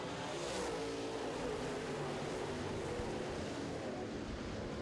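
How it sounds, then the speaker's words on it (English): Late model race cars racing around an oval track, a steady blended engine roar heard from a distance and held throughout without break. "Cole Schill and Singh looking to pick up the throttle as well. They do, and we're racing."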